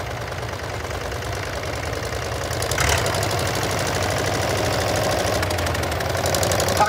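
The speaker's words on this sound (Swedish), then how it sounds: "Och i denna sitter här en Volvo 6-cylindrig dieselmotor." A modified Volvo T24 tractor fitted with a Volvo six-cylinder diesel engine runs steadily at a tractor parade, its knocking idle rumbling continuously and growing slightly louder midway.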